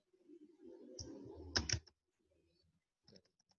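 Computer keyboard typing while Python code is written, a run of soft key clicks with a couple of sharper taps, then a pause and a few more scattered keystrokes.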